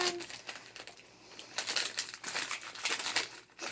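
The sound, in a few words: handling plastic packaging of a cube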